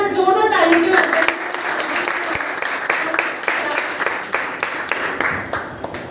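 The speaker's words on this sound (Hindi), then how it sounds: "तो एक बार जोरदार तालियों के माध्यम से।" Loud audience applause fills a Kshamavani school function at a Jain pathshala in Delhi, a dense steady clatter of many hands lasting several seconds, with a voice speaking at the start.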